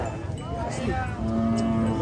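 A water buffalo (carabao) at a Monday livestock auction gives a low, drawn-out moo toward the end, partly buried under dense crowd noise and nearby voices.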